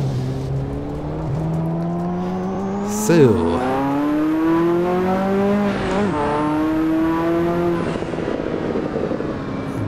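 A Ferrari in the Assetto Corsa racing game revs hard through the gears, its engine tone climbing steadily with abrupt shift drops, loud and close, with a brief voice over the engine.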